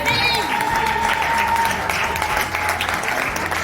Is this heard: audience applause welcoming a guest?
yes